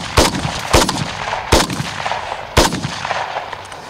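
Gunfire from an SR-3 Vikhr rifle during a tactical drill by an FSB special unit, four sharp, loud reports spaced roughly a second apart with short echoing tails, no talk in between.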